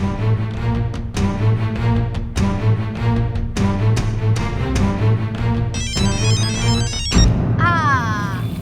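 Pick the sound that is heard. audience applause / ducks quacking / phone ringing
phone ringing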